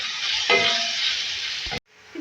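Ginger paste frying in a pan, a steady loud sizzle with a brief stirring scrape, cutting off abruptly near the end before a quieter hiss resumes.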